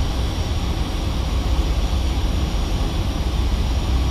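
A Boeing airliner auto-landing on the runway in fog at LAX, heard as a steady, loud, unbroken roar of engine and airflow noise throughout.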